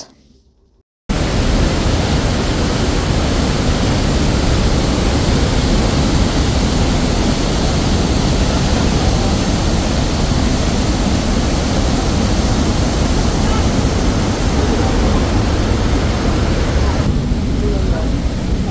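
The Rhine Falls waterfall in Switzerland, heard from a viewing platform very close to the water. After a second of near quiet, a loud, constant broadband roar begins abruptly and holds without letup.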